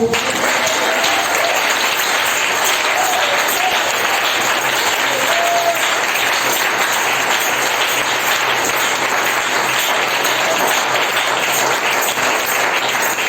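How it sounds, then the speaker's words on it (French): A church congregation applauds, a dense, loud and steady wash of clapping from many hands that fills the whole stretch without a break. "Donnez-lui une acclamation"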